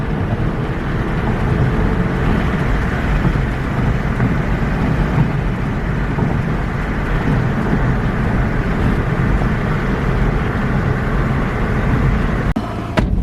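A Volkswagen TDI with a freshly replaced oil cooler drones on the road from inside the cabin, a loud, steady rumble of engine and road noise that holds throughout with no talk.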